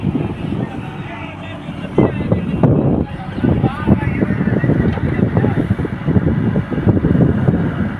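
A tractor-driven farm machine runs steadily outdoors in a field, its rumbling engine continuous and fairly loud, with wind buffeting the microphone and someone talking over it.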